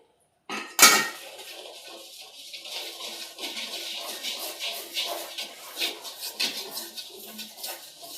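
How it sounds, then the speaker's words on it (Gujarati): A spoon stirs lapsi, a Gujarati cracked-wheat sweet, in a metal cooking pot, starting with a sharp clang against the rim and followed by continuous close scraping and clinking strokes in an uneven rhythm, with no speech. "થોડી વાર માટે બફાવા મૂકી હવે આપણે હલાવી દેશું લાપસીને"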